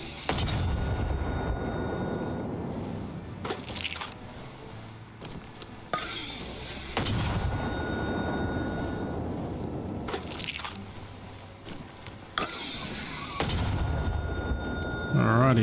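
Mortar rounds fire in the video game Arma Reforger, three or so sharp booming launches spaced several seconds apart, each followed by a ringing tail, with faint handling clatter between them.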